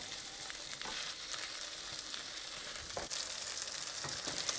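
Curried chicken cutlets frying in a pan, a steady bright sizzle and crackle throughout with a few sharper pops and spits, close and continuous, no voices.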